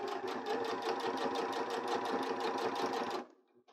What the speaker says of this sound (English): now I'm just going to stitch around the edge of this, connecting our front and our lining together